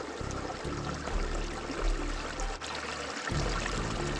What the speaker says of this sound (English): I think I'll pull a liter or two from Van Horn Creek here. It's flowing pretty good.